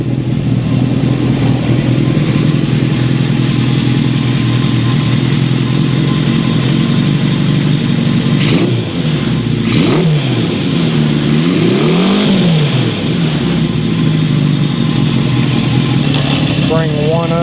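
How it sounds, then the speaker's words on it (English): Idling 1972 Honda CB750 Four engine, freshly fitted with a new head, gets a few short blips of throttle that rise and fall in pitch before settling back to a steady close rumble, with a voice briefly heard over it. "Let me give it a little throttle."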